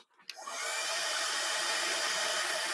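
A heat tool kicks on after a brief click and blows a steady, loud whirring hiss over heavy ink on a card front before die cutting.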